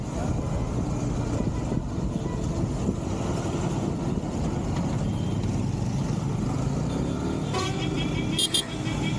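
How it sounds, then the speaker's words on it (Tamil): Steady road traffic rumble with engine drone throughout, heard from a motorcycle on a night ride on the Chennai to Villupuram highway, a close vehicle passing near the end, and faint voices under the noise. "நல்ல சரியான டிராஃபிக்கு போயிட்டே தான் இருக்குது"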